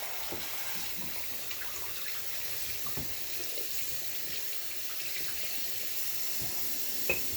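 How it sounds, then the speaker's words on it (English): Steady tap water runs into a sink while a shaving bowl and brush are rinsed out, a continuous hissing splash with a few faint knocks and no talking. "Rinse my bowl and my brush out."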